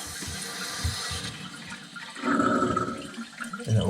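Water rushes and refills inside a Kohler toilet with a leaking canister seal, a close, steady wash that swells louder partway through and keeps running to the end.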